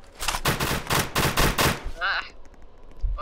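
Gunfire in the Roblox game SCP Task Force, a fast burst of automatic shots for about two seconds, then a brief electronic whine and quieter clicks.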